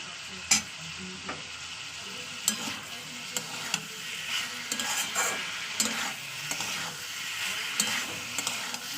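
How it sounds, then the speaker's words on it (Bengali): Meat with spices and tomato being stir-fried in oil, a close, continuous sizzle broken by irregular spatula scrapes and clacks against the pan, with no speech. "পুরো তেলের উপরে জিনিসটা কষানো হচ্ছে"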